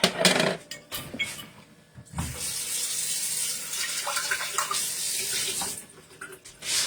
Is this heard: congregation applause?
no